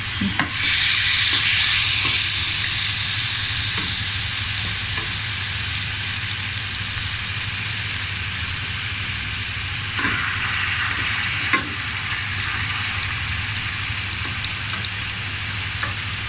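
Ghee heats in a pan for Syrian-style shawarma, giving a loud continuous sizzle and hiss with occasional stirring scrapes, close and steady throughout, no voices.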